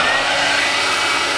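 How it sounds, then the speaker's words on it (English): A hair dryer blows steadily to heat the emblem adhesive on a Dodge Challenger, giving a loud, close, unbroken whoosh with no talking. "take your wife's favorite hair dryer"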